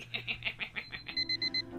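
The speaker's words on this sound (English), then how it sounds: "I woke up to my alarm beeping" An alarm clock beeps: a run of soft rhythmic pulses gives way to four sharp, evenly spaced electronic beeps, close and clear with no talking.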